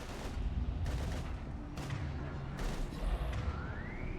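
Combat gunfire in Mass Effect 3: repeated heavy bursts of shots and impacts roughly every second, loud and close over a dense battle din, with no talking.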